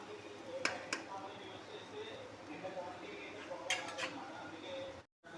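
Melted jaggery and grated coconut are stirred in a pan for coconut laddu, with a spoon scraping and clinking against the metal now and then. A voice talks throughout.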